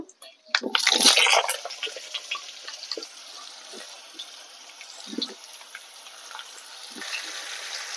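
Sliced mango hitting hot mustard oil with five-spice tempering and dried red chillies, a loud sizzling burst that settles into softer crackling and popping, with someone speaking over it.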